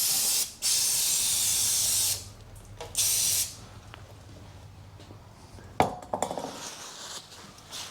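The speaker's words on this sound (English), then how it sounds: "I've got a bit of brake and clutch cleaner, which is a brilliant degreaser. So I'll just give it a blast with this." Brake and clutch cleaner blasts from an aerosol can during a 2010 Ford Fiesta 1.2 Zetec oil change, with loud, close hissing bursts (a long spray, a longer one, then a short one), followed by quieter metallic clinks and handling noises.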